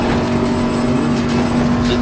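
A steady race car engine drone in a racing video game at Spa, echoing off a wall, holds one low tone with a hollow, reflected quality, loud and continuous throughout.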